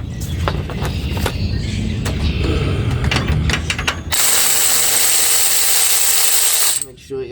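A ratchet works on the caliper bracket bolts of an early 1999 Ford F350 dually, giving rapid close clicking for about four seconds, then a steady loud whir.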